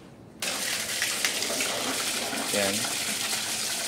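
A water pump, just cleaned and with its impeller refitted, sends out a strong steady gush of water that starts suddenly and keeps flowing loudly, while a voice speaks briefly over it.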